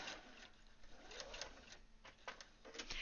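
A sewing machine stitching a seam during a garment alteration, rapid mechanical whirring bursts that start and stop, close and clear with no one talking.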